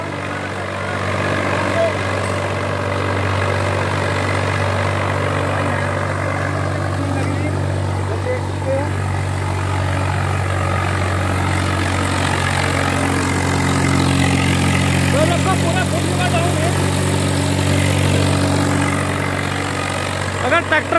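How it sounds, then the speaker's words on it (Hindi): A Swaraj 744 FE tractor fitted with a 14-disc harrow runs at full throttle, giving a loud, steady, deep diesel drone that barely changes, with someone talking over it at times. "तो बहुत जबरदस्त आवाज है भाइयों, ट्रैक्टर की"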